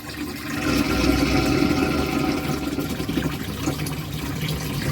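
Water gushes steadily through a hose while a large snapping turtle's tank is being cleaned and drained, a continuous close rushing flow with low gurgling that holds at a fairly even level throughout.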